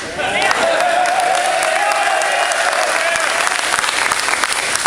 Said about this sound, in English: you guys better clap for me like you did